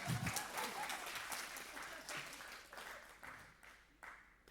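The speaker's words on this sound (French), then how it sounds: "Donc, on peut l'applaudir." A crowd claps in a steady wash of applause that gradually thins and fades out, with a few louder individual claps near the end.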